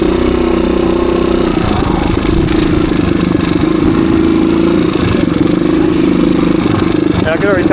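A low-hour 1985 Suzuki DR250 motorcycle rides through woods, its engine droning steadily at low revs with clattering and slight rises in pitch, loud and close throughout.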